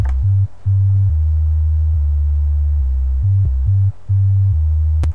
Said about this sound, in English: a sub bass that I found, a really deep sub bass